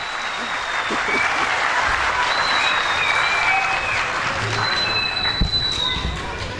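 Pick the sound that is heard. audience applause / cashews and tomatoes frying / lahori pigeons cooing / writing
audience applause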